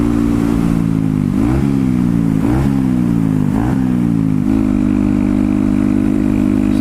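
Honda Grom motorcycle fitted with an Aodonly racing exhaust, idling loud and close, then blipped through several quick revs that rise and fall back before settling to a steady idle.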